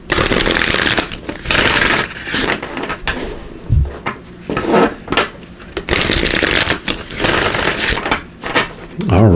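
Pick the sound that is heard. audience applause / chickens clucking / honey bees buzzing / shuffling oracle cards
shuffling oracle cards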